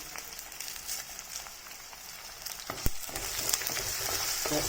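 Dried red chillies fry in hot oil with green chillies and onion for a fish curry, giving a continuous crackling sizzle that thickens toward the end, with a sharp knock or clatter midway.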